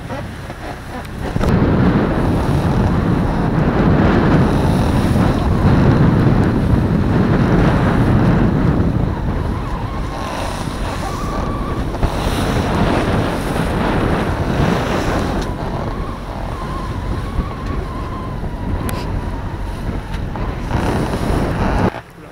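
Strong wind roars over a solo sailboat crossing the Bay of Biscay close-hauled at night in about nineteen knots, with steady buffeting gusts and sloshing waves against the hull, loud and continuous.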